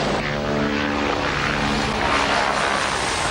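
Propeller aircraft engine droning steadily and loud as a plane performs aerobatics near a warship, a continuous roar with a faintly shifting pitch and no voices.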